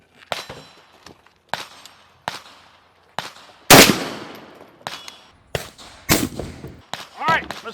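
Rifle shots fired at an authentic Russian 6B45 Granit Ratnik armor plate on an outdoor range, about eight sharp, loud cracks spaced roughly a second apart, one especially heavy impact near the middle with a ringing tail.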